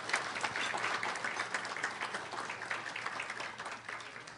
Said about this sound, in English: let's give Dr. Sosi another round of applause.